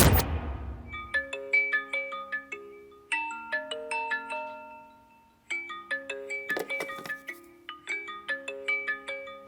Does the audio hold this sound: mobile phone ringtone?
yes